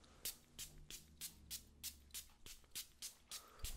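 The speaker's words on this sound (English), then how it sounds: "I'm just gonna spray water around you." Quick repeated spritzes of water from a spray bottle, about a dozen short hissing bursts in a steady rhythm, close and fairly soft.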